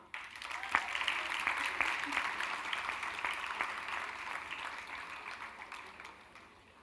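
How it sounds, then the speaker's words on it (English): Faint applause from an audience at a university convocation after a rank holder is named, a steady spread of many hands clapping at a distance that gradually tapers off. "Please applaud."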